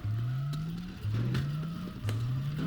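A truck engine in the video game Teardown drives and revs in three rising pulls, each pitch climbing then dropping as it shifts, loud and steady with sharp clanks of impacts on top.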